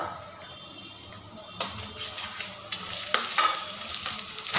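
Onion sautéed in butter with garlic cloves and roughly chopped ginger, stirred with scraping utensil strokes over a steady sizzle, close by, with sharper stirring bursts toward the end.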